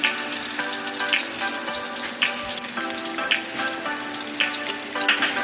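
Garlic, onion and ginger sautéing in hot oil for a chayote-and-egg dish, a loud continuous sizzle with recurring spatula scrapes and stirring clatters throughout.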